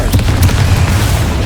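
A loud, deep booming blast from the Confringo explosive spell in Hogwarts Legacy, a sustained rumbling explosion with crackling bursts, close and powerful, with no talk.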